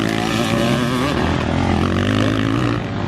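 Motocross bikes in an over-50s race at Toddington coming round on their first lap, with loud, continuous engine roar and whining revs from several machines nearby.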